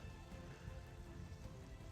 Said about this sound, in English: it's decided to start raining and hailing